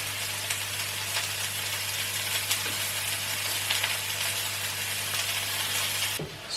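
Vegetables and mushrooms stir-frying in olive oil, a loud steady hiss and sizzle with a low constant hum underneath, ending in a brief clatter near the end, no talking.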